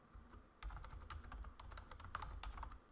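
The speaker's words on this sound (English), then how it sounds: "we want to type in our keyword" Fingers tap steadily on a computer keyboard, entering keywords in a plugin settings field: a quiet, close run of irregular key clicks with no speech.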